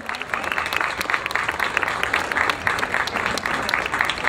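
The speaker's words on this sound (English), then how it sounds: "Jim Russell. Round of applause." Round of applause from a crowd at a Philadelphia Light The Night charity walk: steady, fairly quiet clapping from many people with sharper individual claps poking through and light background voices.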